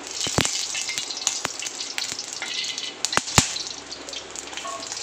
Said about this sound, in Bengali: 2 চামচের মতন ঘি দিয়ে দিলাম। 2-3টে এলাচ একটু ফাটিয়ে দিয়ে দিলাম।